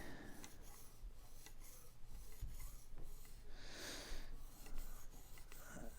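Steady raspy strokes of a knife blade drawn across a fine-grit stone on a Smith's Precision Sharpening System, repeated back and forth at a close, even rhythm with no talking.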